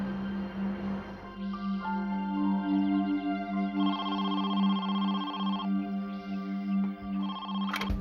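A telephone rings with a steady electronic ringtone, a repeating tonal pattern over a constant low hum, moderately loud and continuous for several seconds with no voices.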